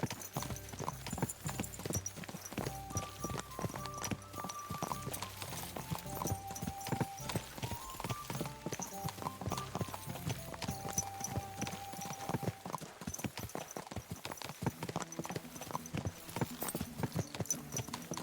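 A horse's hooves clip-clop in a steady, quick rhythm while riding in Kingdom Come: Deliverance 2, continuous throughout at moderate volume beneath a soft musical score.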